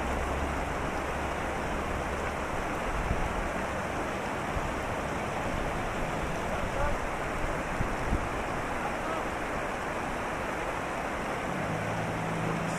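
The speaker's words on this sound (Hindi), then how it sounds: "किस कदर तेज़ी से पानी जा रहा है जी, और मज़ीद पीछे से तेज़ होता जा रहा है ये।" A flash flood after rain in Ziarat, Baluchistan, sends water rushing past in a steady, loud, broadband roar that holds constant throughout, with wind buffeting the microphone.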